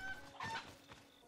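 Brief cucco clucking from a chicken in Zelda: Breath of the Wild, a couple of short clucks close by with no talk.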